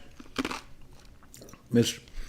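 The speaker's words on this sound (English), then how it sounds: "All right, I'm chewing ice." Ice being chewed from an iced coffee drink, two separate close, crisp crunches about a second and a half apart, with faint soft mouth sounds between them and no talk.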